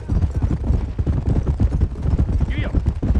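Horse hooves clip-clop in a steady rhythm in the Red Dead Redemption video game, close and continuous, with a low rumble beneath and a brief whinny-like sound near the end.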